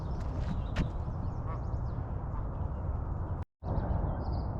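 Geese call out at Barr Lake in Colorado, a few sharp honking notes early on over a steady, rumbling outdoor wash, with one brief dropout near the end.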